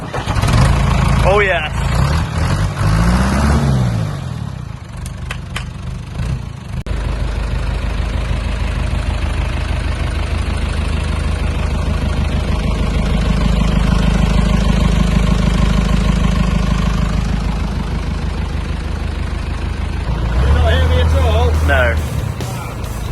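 An old tractor's engine cranks and catches, then runs at a rough, steady idle with a deep throb. The tractor is standing in a farmyard turned construction site. Someone speaks briefly over the sound near the start and near the end.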